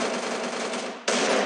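Free Fire gameplay gunfire comes as a dense, continuous burst of automatic shots. It cuts off briefly and then resumes at a louder level, with no talk over it.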